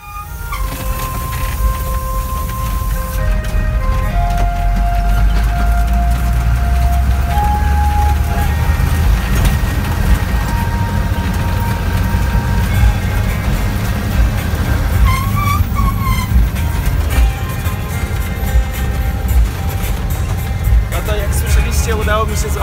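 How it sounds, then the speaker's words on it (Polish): Inside a truck driving along a road in Bhutan while hitchhiking, a steady low engine rumble and road noise persist throughout, with people talking over it and occasional rattles and higher tones. "udało mi się złapać ciężarówkę pierwszy raz w Butanie"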